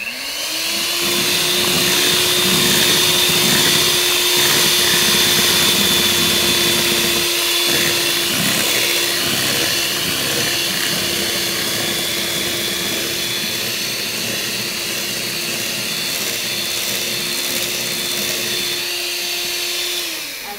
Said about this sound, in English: I'm going to go ahead and just lightly beat it so it's all together.